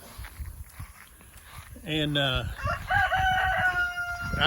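Nearby chickens cluck and a rooster crows loudly over rustling and footsteps, with birdcalls continuing after the crow.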